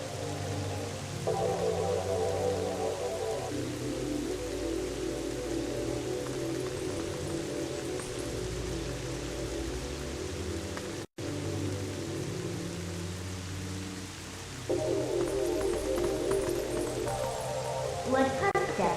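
Steady rain hiss in Zelda: Twilight Princess on GameCube, a continuous broadband wash with low musical tones and game sounds layered over it, briefly cutting out once midway.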